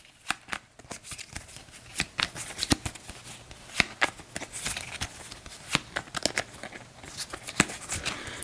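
A deck of board game cards for Astro Knights Eternity is shuffled by hand in a quiet room, a run of crisp riffles and soft shuffling flicks repeating close up.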